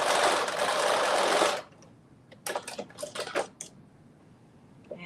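A sewing machine runs in one loud steady burst, then stops; a few short, quieter stitching bursts follow as it back-stitches at the end of a seam.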